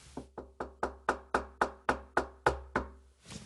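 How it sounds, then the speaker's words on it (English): Knuckles knocking on the side of a wooden cajon, door-style: about eleven crisp, evenly spaced knocks, close and dry, each decaying quickly. "I've done things by, you know, knocking on the side,"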